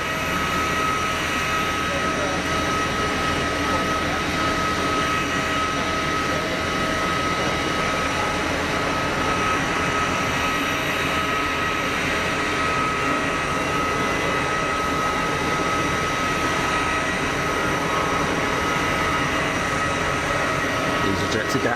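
An easyJet Airbus A320ceo jet airliner at Geneva Airport gives off a steady, loud engine roar with a sustained whine that continues unbroken from start to finish, while voices talk over it.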